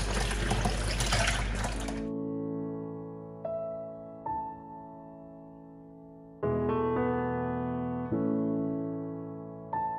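Liquid from a hibiscus zobo drink and orange juice streams through a sieve, a steady nearby trickle and splash that soon gives way to intermittent drips and short pours.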